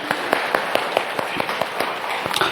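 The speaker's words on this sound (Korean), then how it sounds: "주님께 영광의 박수를 돌리십시다" A church congregation at a Sunday worship service breaks into brisk applause, a quick, fairly loud run of overlapping hand claps lasting a few seconds.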